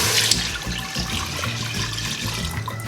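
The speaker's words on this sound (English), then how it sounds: "I'm going to add the milk" Milk pours into a pan for a bechamel white sauce, a steady close liquid splash and trickle running continuously for about three seconds with no voices.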